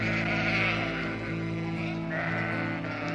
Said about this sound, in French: il vient faire paître ses moutons dans les sous-bois une fois par an vers fin juin, début juillet